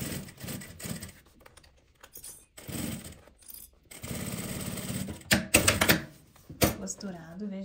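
Domestic sewing machine with a magnetic seam guide stitching fabric for a travel toiletry bag, giving loud rapid mechanical clatter in bursts separated by brief pauses, close up.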